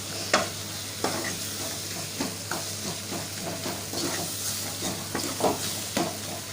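Onions and tomatoes fry in oil in a pan, a steady close sizzle broken by recurring scraping knocks of a spoon stirring every second or so.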